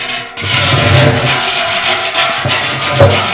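A rusty barrel being sanded gives a loud, continuous abrasive rasp in close, rhythmic back-and-forth strokes, with brief pauses between passes and no voices.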